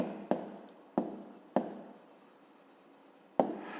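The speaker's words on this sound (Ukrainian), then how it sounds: "Ну і зараз записуємо тоді відповідь." Pen writing down an answer to a fifth-grade maths exercise, quiet scratchy strokes in four short bursts with sharp pen taps at the start of each, no talking.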